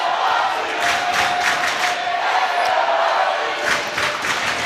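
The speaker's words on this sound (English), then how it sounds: "And the Hoxie crowd is fired up now." A fired-up Hoxie home crowd at a 2A sub-state girls' volleyball match roars with steady, continuous cheering and shouting through a gymnasium, with no gap or letup.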